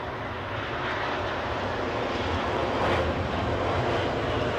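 An American Airlines jet roars steadily at London Heathrow airport, a broad continuous engine rumble at moderate distance that swells slightly toward the end, with no talking.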